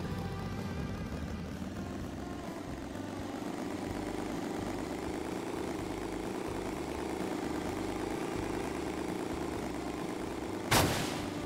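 A motorcycle idles in the video game Rules of Survival, giving a continuous, even engine drone throughout. A single sharp crack sounds near the end.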